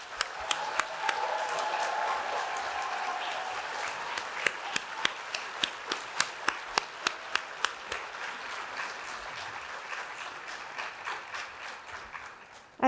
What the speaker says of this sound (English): let's give our Teachers of the Year and Civics, Arts, and STEM Any Award winners a final and robust round of applause